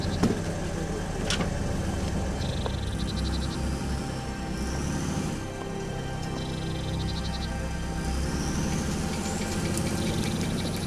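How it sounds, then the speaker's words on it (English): Swedish Army BV 206 cross-country vehicle grinding over snowy terrain during a winter hunt, a steady, loud engine drone with rumbling tracks and occasional higher whines, continuous throughout. "The cross-country vehicle will get the hunters along the terrain that is inaccessible for another vehicle type."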